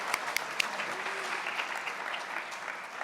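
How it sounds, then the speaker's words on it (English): A modest crowd gathered for a morning tech conference keynote claps in a steady, moderate patter, with a few sharper individual claps standing out near the start. "That's applause"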